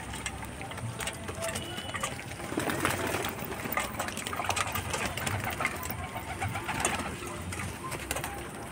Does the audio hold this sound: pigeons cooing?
yes